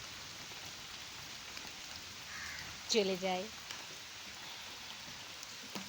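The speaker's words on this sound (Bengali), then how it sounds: "ঝমঝম বৃষ্টি, কখনো টুপটুপ বৃষ্টি" Steady rain falls outdoors in the monsoon, a soft, even hiss throughout, with a short spoken phrase near the middle.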